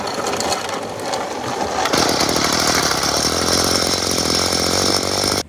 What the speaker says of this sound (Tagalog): Kaya ako na lang yung nagpaandar sa grass cutter.